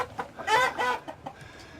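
A broody mother hen clucks and grumbles in a short run of irritated, close calls, a few quick clucks rising to a louder drawn-out note, then softer trailing clucks.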